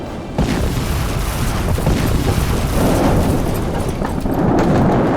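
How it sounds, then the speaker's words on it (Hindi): A series of deep booming explosions from air strikes behind buildings rolls one after another, heavy and rumbling, with no voices. "वहां बिल्डिंगों के पीछे एक के बाद एक कई धमाके होते हुए दिखाई दिए"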